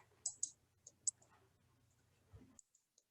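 A computer mouse clicks on a Reject button in a word processor: a few faint, sharp clicks, close together then spaced out, over a quiet room.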